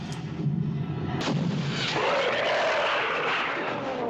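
A citadel blows up in the 1976 fantasy film At the Earth's Core: a sustained, loud roar of explosions and rumbling blasts fills the whole stretch, with a sharp crack partway through and a rising, swirling wash of debris and fire.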